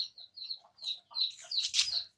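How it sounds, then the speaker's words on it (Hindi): Chickens with a Sindhi Aseel rooster among them cluck and chirp in short, repeated calls, faint and close by, forming a steady run of small bird voices. "ये मेरा सिंधी असील मुर्गा है।"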